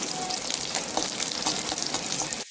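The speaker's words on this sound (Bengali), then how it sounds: "রসুনটা খুব ভালো মতো ভাজা হয়ে গেছে, তার সাথে শুকনো লঙ্কাটাও ভাজা হয়ে গেছে" Garlic and two dried red chillies crackle and sizzle steadily in hot oil, a dense close frying hiss with small pops, cutting off abruptly at the end.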